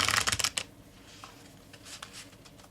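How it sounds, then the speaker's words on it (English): New playing cards are riffle shuffled on a mat: a brisk burst of rapid fluttering clicks at the start, then quieter handling of the deck. "I love to do my riffle shuffle with these new mats and new cards"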